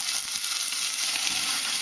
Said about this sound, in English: if you hear that sizzling, that's a good sign